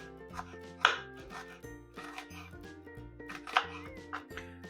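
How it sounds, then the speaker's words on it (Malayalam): A knife chops onion finely on a board in quick repeated strikes, with two louder knocks standing out against a sustained musical tone in the background. "എന്നിട്ട് ഫൈൻ ചോപ്പിങ്"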